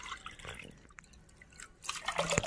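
Water is poured onto one cup of washed toor dal in a cooking pot for drumstick and mango sambar: a close, steady splashing and trickling that swells louder toward the end, with no talking.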